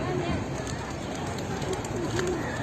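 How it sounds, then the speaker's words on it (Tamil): A large flock of pigeons gathers at an outdoor site in Malaysia, soft cooing and fluttering blended into a steady crowd hubbub, with a voice talking nearby. "எவ்வளோ புறாலாம் இருக்குது பாருங்க"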